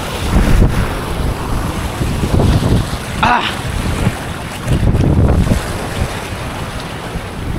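Strong northeast monsoon wind buffets the microphone at a coastal fishing spot, loud gusty roaring in surges throughout, with a brief exclamation from a man partway through.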